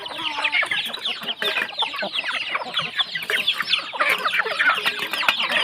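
Burmese fighting chickens cluck steadily and busily in a dense flock while being fed unhusked rice in the evening, overlapping calls close by with scattered pecking noises, no voices.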